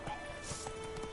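Roach, Geralt's horse in The Witcher 3 video game, trots along in a quick burst of clip-clop hoofbeats with a short whinny, close and steady over a low game backdrop.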